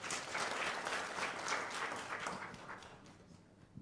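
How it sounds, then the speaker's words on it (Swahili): An audience claps together at a talk on Kenya Pipeline shares, a loud wash of applause that swells quickly, holds, then thins out and fades toward the end. "Makofi tafadhali."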